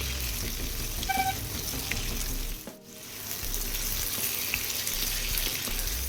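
Potatoes fried with onions in a pan for a bean curry, a soft continuous sizzle with faint stirring, briefly dipping quiet midway before resuming at low level.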